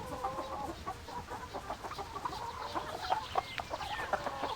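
Chickens cluck steadily in the video game Baldur's Gate 2, with a busy layer of overlapping clucks and squawks from a flock that continues at a moderate level throughout.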